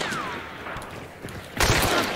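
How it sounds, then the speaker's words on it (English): Gunfire in the multiplayer game Hunt: Showdown, a dense volley of close, loud shots that bursts harder near the end, with a brief whooshing sweep early on. "They're shooting at me."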